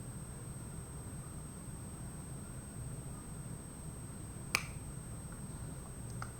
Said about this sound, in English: when I snap my fingers, you say the word.